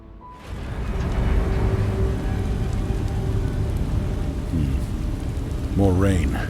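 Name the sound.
rain falling in the video game Beast of Reincarnation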